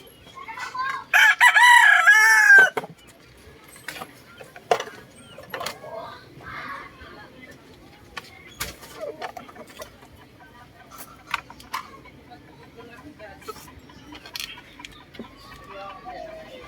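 Chickens in a backyard give a loud rooster crow at the start, then scattered clucks and short calls over quiet background with occasional faint noises.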